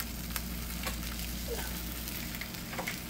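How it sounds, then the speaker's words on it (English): Eggs frying in a pan for scrambling, a soft continuous sizzle with occasional light spatula clicks and scrapes, quiet and close with no talking. "we're going to scramble the eggs"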